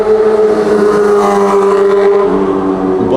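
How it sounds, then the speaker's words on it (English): A motorbike speeds past at a night car meet, its engine roaring loud and close with a falling pitch as it shoots by. "Bike shoots by."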